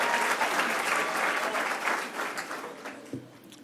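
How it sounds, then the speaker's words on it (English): A crowd at a New York voting rights bill signing by the governor claps loudly and steadily, the applause tapering off toward the end. "Let's give her a round of applause."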